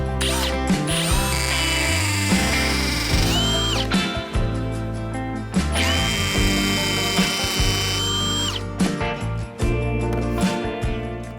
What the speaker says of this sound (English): then you can drill it in